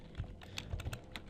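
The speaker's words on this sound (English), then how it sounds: "you just type your link in here" Rapid keystrokes on a computer keyboard as a web link is typed into HTML code, a quick, even patter of close, fairly soft clicks with no talking.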